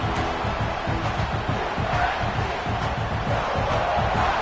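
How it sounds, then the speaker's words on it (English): A college football stadium crowd at an Ohio State versus South Carolina game roars to urge on the defense, a dense, steady wall of cheering and noise that holds level throughout. "And this crowd coming to life here, trying to help the defense get a stop."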